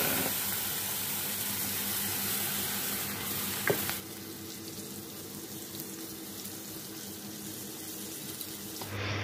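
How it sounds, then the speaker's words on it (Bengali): Pointed gourd peel with tamarind frying in a wok, a steady hiss of sizzling that runs louder for the first four seconds, then settles softer after a brief knock, with no voices. "চলো এবার এটাকে ভাজবো কড়াই।"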